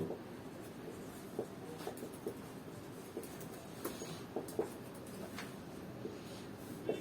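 Pen writing out a coordinate geometry distance calculation, a quiet, close, continuous scratching of strokes with small taps as the pen lifts and touches down.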